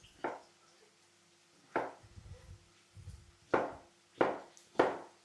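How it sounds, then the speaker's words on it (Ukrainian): A knife chops potatoes into cubes on a board, five or six sharp, separate cuts at an uneven pace, close and clear. "картоплю треба нарізати кубиком"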